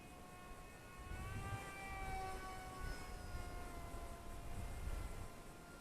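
A small 480mm-wingspan RC plane converted to a brushless pusher motor flies close by, its electric whine holding steady and then sliding in pitch as it maneuvers, over light background noise with no talking.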